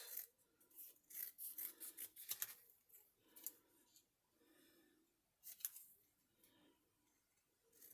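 Scissors snip through a paper craft tag inked with Distress Inks, giving a quiet run of repeated crisp cuts and rustles, close up with pauses between bursts.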